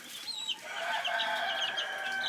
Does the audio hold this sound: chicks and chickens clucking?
yes